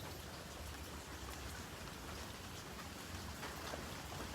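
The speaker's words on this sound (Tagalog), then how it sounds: "It's raining kaya, ayan." Rain falls steadily outdoors by a fish-feeding pond, a soft, even patter and hiss that stays faint and continuous without breaks.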